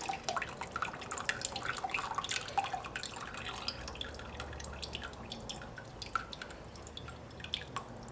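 Liquid from cooked apples dripping and trickling through a strainer, a quiet, close, irregular patter of small drops with no talk.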